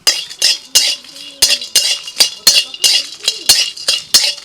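Whole spices, dried chilli, cardamom, cinnamon and cloves, dropped into a dry wok, heard as a rhythmic series of sharp metallic clinks and scrapes of a utensil against the pan, close and fairly loud.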